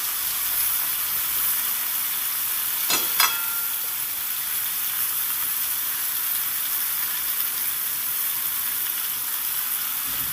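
Spiced okra (bhindi) sizzles in hot oil over a spice tempering, a steady, close frying hiss that runs the whole time with a short sharper crackle near the start.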